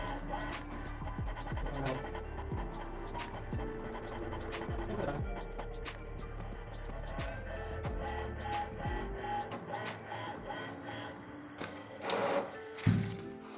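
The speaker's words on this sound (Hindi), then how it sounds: "एक ऑटोमेटिक टेस्ट पेपर के लिए ये जाएगा, पेपर एक प्रिंट होगा" An HP Ink Tank Wireless 416 printer printing its automatic test page, a steady mechanical whirr with repeated rhythmic feed clicks and scraping paper movement throughout, ending in a louder clunk.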